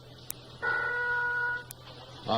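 A telephone rings once on a comedy radio call-in show, a steady electronic tone of about one second, loud and clear, followed by another brief ring starting at the end.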